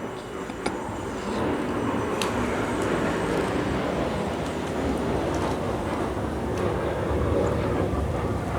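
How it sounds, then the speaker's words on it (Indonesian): A jet airplane passes overhead as a steady, broad roar that holds for the whole stretch, loud and continuous with a slight swell near the end, while a voice speaks faintly underneath. "pesawat lewat terus, pesawat jet"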